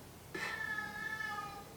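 A pet cat gives a single clear meow, fairly close but quiet, against a faint indoor background with no talking.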